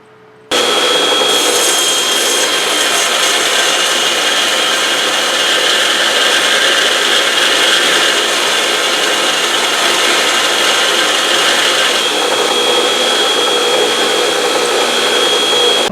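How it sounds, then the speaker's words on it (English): A belt sander grinds steel for a knife bolster, a loud continuous abrasive whir that holds steady from start to finish with no talk. "moving to the belt sander"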